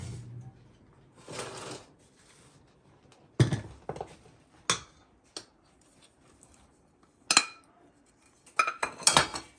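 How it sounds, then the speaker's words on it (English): Metal spoon scraping and clinking in a bowl while folding sourdough bread dough, a series of sharp separate knocks and scrapes with quiet gaps between them. "I'm going to fold it in with my spoon"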